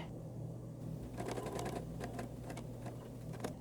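Sewing machine stitching binding onto a striped fabric placemat, a steady quiet mechanical hum with rapid rhythmic needle ticking in short runs, close and alone.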